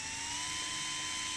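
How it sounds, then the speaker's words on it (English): A variable speed drill set to about half speed whirs in a steady, even whine close by, with no voices over it. "So I've got a variable speed drill here"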